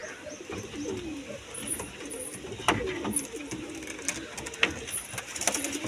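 A caged pigeon coos in low, soft repeated calls amid background rustling and occasional clicks and knocks, with a faint distant voice.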